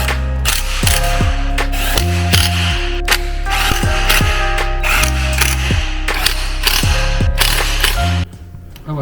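Ratchet wrench tightening the bolts of an oil pick-up pipe back onto a VW Mk5 Golf GTI 2.0 TFSI engine: loud, close bursts of rapid clicking repeat in a steady rhythm with brief pauses, alone without speech.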